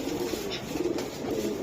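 Coloured pigeons cooing in a low, continuous murmur nearby, a faint flutter or rustle now and then, no voices.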